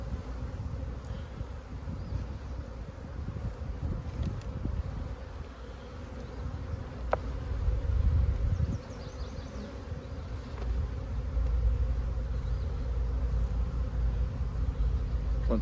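Honey bees buzz steadily around a small nuc hive, a dense continuous hum with individual bees droning past close by, no voices.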